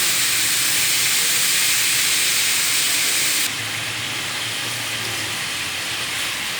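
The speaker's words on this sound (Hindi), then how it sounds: "इनको अच्छा सा भून लेंगे" Carrots and peas frying in spices in a pan, a loud steady hissing sizzle that drops a little partway through and continues evenly, close, with no talking.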